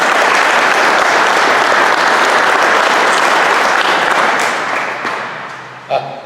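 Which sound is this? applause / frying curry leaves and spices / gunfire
applause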